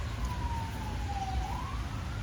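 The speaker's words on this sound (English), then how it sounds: "all I hear is like sirens going off" A siren wails in the distance on a Saturday night in the city, its pitch sliding down then rising again over a low, steady background rumble.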